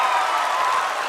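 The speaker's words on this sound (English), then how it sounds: "People are applauding." Crowd applause at the Chandrayaan-3 lunar landing broadcast, a steady dense wash of clapping filling the whole moment without pause.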